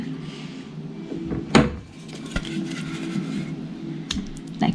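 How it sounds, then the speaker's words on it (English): Short metallic and wooden clatters come from a kitchen drawer as a spoon is grabbed: a sharp clink, a few softer knocks and a final rattle against steady background noise. "I'm going to grab a spoon so we can get that out safely."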